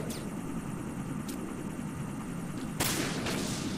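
Pistol shots aimed at metal UAV drones in Metal Gear Solid 2: Sons of Liberty HD, three sharp cracks spaced over a few seconds above a steady mechanical hum.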